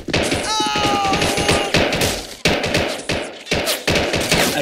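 Dense, rapid bursts of gunfire giving covering fire in a video game, with machine-gun rattles and sharp thuds close and loud. Short pauses break the shooting, and a metallic ring sounds early on.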